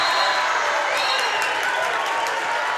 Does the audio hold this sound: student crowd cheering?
yes